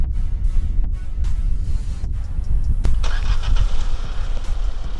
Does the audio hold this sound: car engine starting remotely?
yes